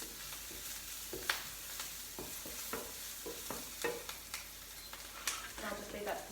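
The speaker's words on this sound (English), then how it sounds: "I'm just sauteing it in a frying pan with a bit of oil and a bit of butter" Chopped onion sautéing in a frying pan with oil and butter, a soft steady sizzle under repeated stirring and utensil scrapes that tap out at irregular moments.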